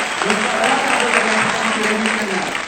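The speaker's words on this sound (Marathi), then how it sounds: "टाळ्या वाजत राहिल्या पाहिजेत" An audience claps steadily and continuously on the Salam Satara TV game show, with a voice or tone carrying over the applause throughout.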